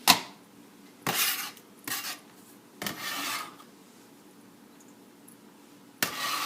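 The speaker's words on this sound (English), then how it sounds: "the next thing I gotta do is cut up my onion" An onion is cut on a board with a knife in a home kitchen, giving a few separate scraping, rasping strokes spaced over several seconds with quiet gaps between.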